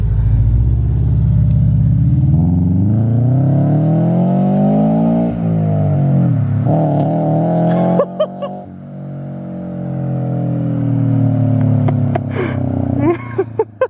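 An STI-swapped Toyota 86 with JDL UEL headers and an Invidia N1 catback revs hard nearby, its loud engine note climbing and falling in several long sweeps, with brief gasps and laughter near the end.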